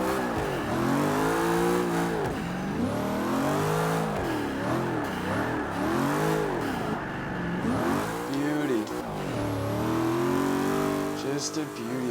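A Camaro Z28 drifting in the racing game Forza Motorsport 5, its engine revving up and down in repeated surges with squealing tires, loud and continuous, under a man's brief spoken remark.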